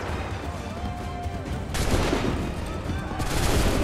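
A musket volley erupts in Assassin's Creed III, a loud, crackling burst of many shots fired together, then a second rolling wave of fire, with battlefield rumble underneath.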